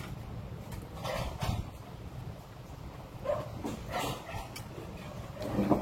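A dog gives soft whimpers and a few short yips amid outdoor background noise, fairly faint and intermittent.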